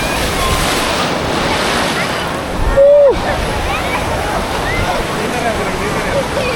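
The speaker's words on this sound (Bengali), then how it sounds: "অসম্ভব সুন্দর ঢেউ আসছে" Ocean waves break on the shore at Kanyakumari with a loud, continuous roar and wash under gusty wind noise. A brief whistle-like tone rises and falls in the middle.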